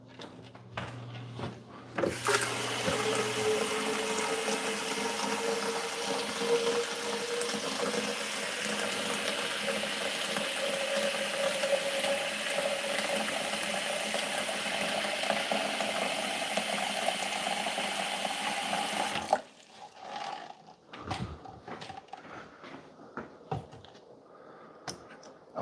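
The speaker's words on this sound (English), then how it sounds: "so the Breville, we're gonna fill it up with water" Tap water pours steadily into the reservoir of a Breville Grind and Brew coffee maker, a loud continuous rushing stream that lasts about seventeen seconds before cutting off, followed by a few soft knocks and clicks.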